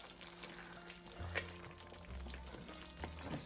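Paneer masala with fresh green coriander being stirred in a pan, with a soft sizzle and a few scraping stirs standing out near and quiet.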